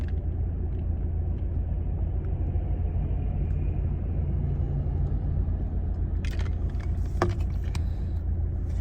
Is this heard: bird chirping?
no